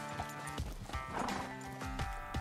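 Arabian horse in the game Red Dead Redemption 2, with hooves clip-clopping in an uneven series of thuds and a loud neigh and whinny rising midway, close and clear with no talk.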